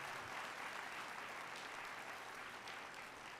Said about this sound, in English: Can you please give them a big round of applause from the bottom of our hearts